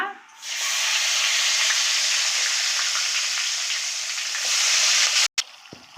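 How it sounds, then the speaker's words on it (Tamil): Fenugreek and shallots frying in hot oil: loud, steady sizzling, hissing continuously for several seconds before a brief clatter and a quieter tail. "இப்போ நம்ம வெந்தயம் மட்டும் தாளிக்கத்து போட்டுக்கலாம் சின்ன வெங்காயம் போட்டுக்கலாம்"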